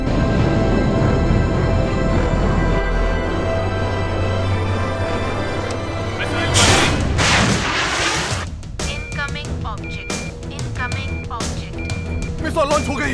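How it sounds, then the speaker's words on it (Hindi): Missile launch and explosions in a dramatic aircraft emergency scene: heavy low rumbling blasts fill the first half, a loud burst near the middle, then crackling debris and sharp bangs mixed with alarm-like tones and voices. "मिसाइल लॉन्च हो गई है।"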